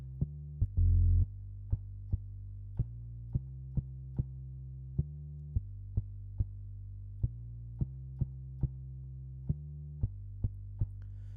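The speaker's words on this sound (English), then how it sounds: "It's more of a kick drone sound, something you might see in some kind of Afrobeats." Synthesized kick drone patch built in Reaktor Blocks, in an Afrobeats style: a steady, low, booming drone punctuated by sharp kick hits in a rhythmic pattern, heard alone without any talking.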